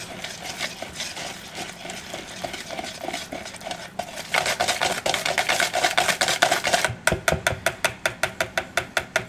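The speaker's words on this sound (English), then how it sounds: "Just going to keep stirring all the way around. Once again, use the whisk to get a really nice batter." A whisk beating cobbler batter for a patriotic berry banana cobbler in a bowl, a steady run of quick close scraping and clinking strokes that grow louder and more sharply rhythmic toward the end, with no talking.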